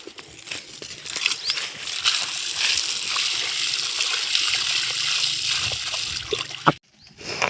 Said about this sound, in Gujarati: થોડોક ફુવારો મારી દઈએ આપણે.